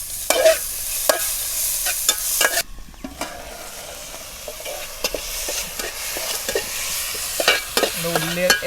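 Sliced onions soften in a hot pan for pepper chicken, a continuous moderate sizzle punctuated by repeated scrapes and taps of a spoon stirring, with a brief lull partway through and no talk.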